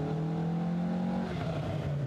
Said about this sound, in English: On the screen is the Marcus with its wooden chassis and Volvo engine.